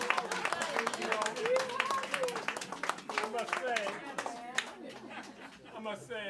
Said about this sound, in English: can we make some applause?